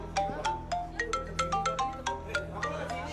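A mobile phone ringtone plays as a steady run of bright, repeating electronic notes over a low background hum in an Indonesian TV drama scene.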